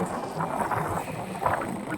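Strong wind buffets the microphone beside Pantabangan Lake, a steady loud roar with gusty swells and no voices.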